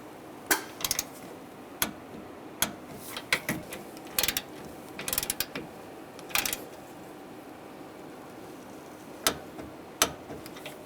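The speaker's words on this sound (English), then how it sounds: "Now we'll torque these nuts to 17 foot-pounds." A torque wrench ratchets and clicks in sharp, irregular snaps while tightening the AC condenser nuts on a 2011-2018 Ram 1500, with metallic taps of tools scattered among the clicks at close range.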